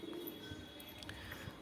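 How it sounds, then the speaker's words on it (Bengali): Pigeons on a shop rooftop give soft, low cooing calls, faint against a steady background hum, with no voices. "এই দেখুন পায়রা এবার নেবে এসছে"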